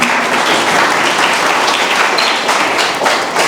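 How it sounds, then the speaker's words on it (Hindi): Loud sustained applause from a seminar audience in a college hall fills the whole stretch, dense and continuous clapping with no voices over it. "एक बार जोरदार तालियां"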